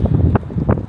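Strong wind on the open rooftop of the Arc de Triomphe in Paris buffets the microphone in loud low rumbling gusts, with two sharper blasts.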